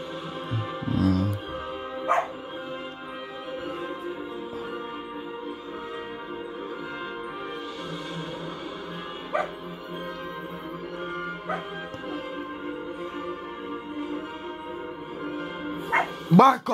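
A dog barks and whimpers intermittently in a room, short yips and whines scattered over about seventeen seconds, mostly faint and some way off, while a person talks over game sounds.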